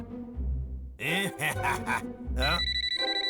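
Electronic telephone ring sounds in bursts from an animated cartoon, mixed with a short vocal grunt, then a steady repeating ring pulse toward the end.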